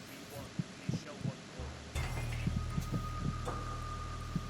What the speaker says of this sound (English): It's a heartbeat.